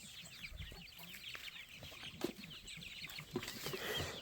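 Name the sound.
free-range chickens clucking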